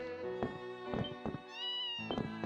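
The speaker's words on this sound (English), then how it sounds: "Cat." A cat in the video game Ys 7 meows repeatedly, about four clear, tonal calls in close succession, including one drawn-out rising cry, with no talk over them.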